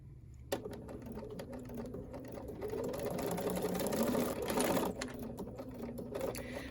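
Sewing machine stitching a foundation paper pieced quilt block starts with a click, then runs as a steady, quiet mechanical whir that speeds up slightly midway and ends with a few slower stitches.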